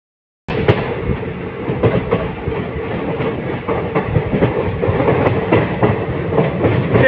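The Teesta Torsa Express runs on rails, and after a brief silence a loud, close rumbling clatter rolls in, with rhythmic wheel clicks continuing throughout and no voices.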